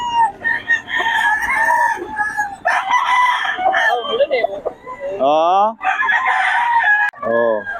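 An 11-month-old stag rooster crows loudly and close by, with drawn-out calls standing out among clucking fowl while people talk over them throughout.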